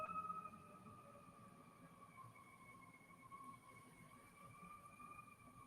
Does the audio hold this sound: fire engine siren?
yes